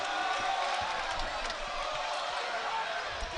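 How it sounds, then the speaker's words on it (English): Spectators at a 2020 Skyline Conference championship college basketball game roar in a dense, sustained wash of cheering that fills the space steadily, with a commentator talking over it. "This crowd is going crazy."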